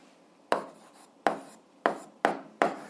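An algebra answer written by hand makes five crisp strokes in a quiet room. Each one starts sharply and fades quickly, with short even gaps between them.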